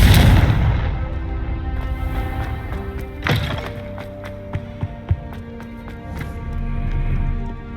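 Confringo and Incendio spells in Hogwarts Legacy go off with a loud opening blast that fades into crackling debris, then a sharp second impact and several scattered pops and thuds.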